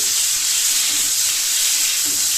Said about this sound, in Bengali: ভাপিয়ে নেওয়া ফুলকপিগুলো এক এক করে দিয়ে দেব দিয়ে একটু কালার ধরা পর্যন্ত ভেজে নেব